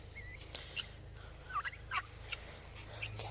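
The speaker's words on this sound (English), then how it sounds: "Turkeys are checking it out." Turkeys on a farm gobbling in several short, faint bursts over a low steady hum, with no talk.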